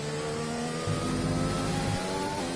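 F1 car engine in a racing video game, a loud, steady high-revving whine with shifting harmonic pitch as revs rise and drop, continuous without talk.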